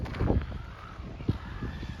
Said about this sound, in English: These birds are protected